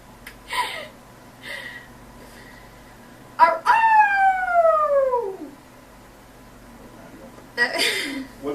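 A person imitates a wolf with a long, loud rising-then-falling howl lasting about two seconds, framed by short breathy vocal sounds and laughter before and after in an indoor interview setting.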